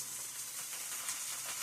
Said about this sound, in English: at this point, you can definitely hear the meat sizzling